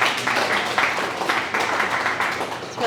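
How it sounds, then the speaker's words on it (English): Audience at a transportation advocacy forum applauding, a brief dense patter of clapping hands in a room, steady and moderately loud from start to finish. "Big round of applause."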